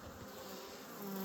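Honey bees buzzing at the hive during an ivy nectar flow near Fontainebleau, a dense steady hum of many wings, close and continuous, with no voices.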